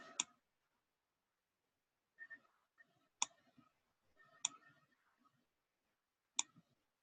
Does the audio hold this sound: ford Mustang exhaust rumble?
no